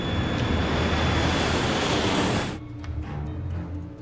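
A fixed-wing passenger plane roars loudly as its engines power it down the runway for takeoff, a broad sustained rumble that drops off sharply to a quieter hum after about two and a half seconds.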